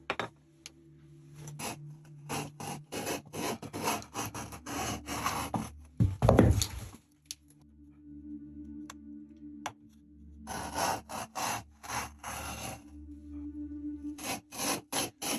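Knife slicing rawhide strips from a stiff moose hide, heard as repeated close scraping and rasping strokes in bursts with short pauses, plus one louder thump partway through, with no talking.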